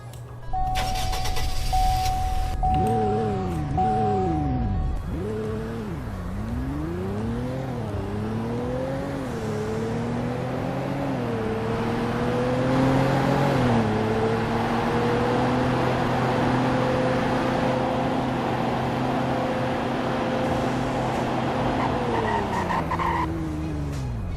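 A video game XTS limousine engine starts with a burst, then revs up and down in rising sweeps before settling into a steady, loud idle hum that cuts off at the end.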